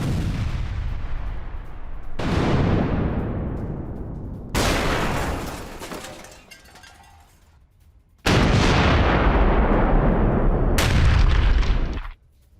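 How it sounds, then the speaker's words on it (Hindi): Artillery shells strike Ukrainian military positions in the Russia-Ukraine war. Five heavy, close booms land at uneven intervals, and each one trails off in a long, rolling rumble. "यूक्रेनी सैन्य ठिकानों पर जोरदार प्रहार किया जा रहा है, यूक्रेनी ठिकानों पर गोले दागे गए हैं।"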